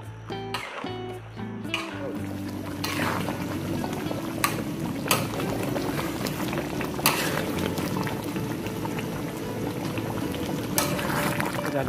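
A pot of Javanese chicken curry with tamarind bubbles and simmers close up, a steady dense boiling burble after a few brief stirring clinks at the start.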